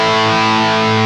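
Electric guitar played through a Behringer Ultra Metal distortion pedal, a single loud sustained chord with dense buzzing harmonics and a tight, saturated distorted tone, heard alone without talk.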